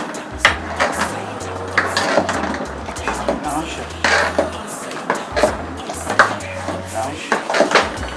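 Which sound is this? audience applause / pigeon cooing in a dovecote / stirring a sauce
stirring a sauce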